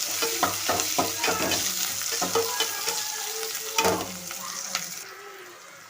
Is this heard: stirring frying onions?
yes